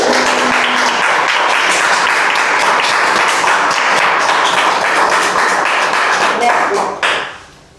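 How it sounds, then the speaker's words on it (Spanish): A lecture audience applauds loudly, dense sustained clapping filling the room for about seven seconds before quickly dying away. "Aplaudimos fuerte"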